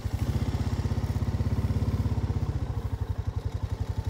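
A quad bike drives through among semi-Angus cross heifers, its small engine putting out a close, rapid, even chugging putter that slows a little toward the end.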